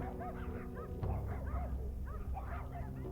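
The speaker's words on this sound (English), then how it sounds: "oh, I don't remember hearing dogs before" Dogs bark, yip and whimper in the Goosebumps: The Game PC adventure, a run of short high-pitched yelps and whines repeating over a low droning background.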